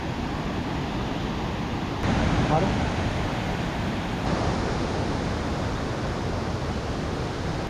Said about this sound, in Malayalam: വെള്ളം ഒഴുകി പോകുന്നുണ്ടോ?